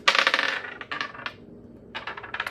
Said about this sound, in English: I'm going to just do some dice on it in case I'm missing something with that.